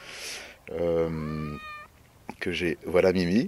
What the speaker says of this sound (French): ça c'est le chat de la maison